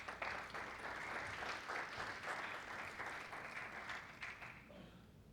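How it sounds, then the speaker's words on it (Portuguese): An audience at a panel forum applauds the panelists, a dense, steady wash of many hands clapping that holds for several seconds before tapering off, quiet and somewhat distant. "Uma salva de palmas a todos os nossos painelistas"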